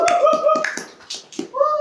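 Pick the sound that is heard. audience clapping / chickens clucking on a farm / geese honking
audience clapping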